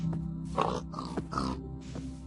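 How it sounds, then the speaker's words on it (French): Pigs grunting in a video game: a few short, close, rough grunts in quick succession over a steady low background hum. "Putain, il y a des cochons, putain."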